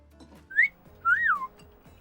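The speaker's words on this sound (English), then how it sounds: "If I knew how to whistle like that, hang on." A person whistles two clear notes, a short rising chirp followed by a longer falling-and-rising slide, close and alone.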